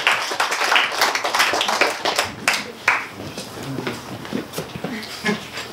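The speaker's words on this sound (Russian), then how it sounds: "Аплодисменты для стендап-комика Вадима!" Audience applause for a stand-up comedian, a burst of clapping that thins into scattered claps and murmurs with a few voices underneath.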